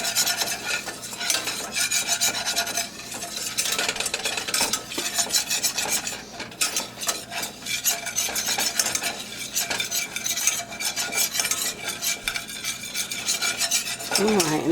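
A flour roux, seasoned with pepper, cooks in a pan for a salmon loaf's white mushroom sauce while being stirred. Continuous close scraping and rasping runs alongside a soft sizzle, with no voices.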